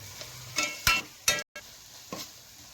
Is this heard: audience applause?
no